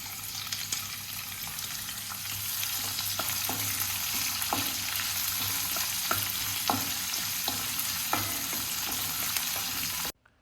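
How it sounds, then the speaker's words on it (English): Finely cut onions sizzle in hot oil with green chilies, ginger and curry leaves over a low-medium flame, a steady close frying hiss broken by occasional stirring clinks, stopping abruptly at the end. "I am going to add the finely cut onions."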